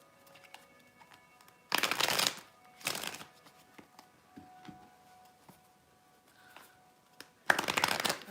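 A deck of cards being shuffled in three distinct close bursts of riffling, separated by quiet pauses with faint small handling noises in between.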